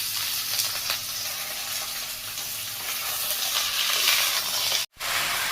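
Potatoes and onion fry with freshly added Malabar spinach stems in a pan, giving a steady close sizzle and hiss with stirring scrapes, cut briefly by a short silent gap near the end.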